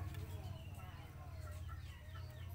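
Soft chicken clucking close by in a quiet farm setting, low murmured calls under faint background noise, with a voice briefly present.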